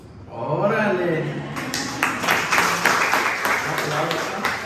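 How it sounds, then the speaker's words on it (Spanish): A congregation applauds at a Sunday church gathering, with a scattered, moderately loud burst of clapping that rises after a brief pause and continues steadily under a speaking voice. "Aplausos."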